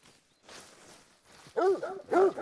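A hunting dog in the hunting game theHunter: Call of the Wild gives two short barks or yips near the end, following quiet rustling movement through the outdoor game ambience.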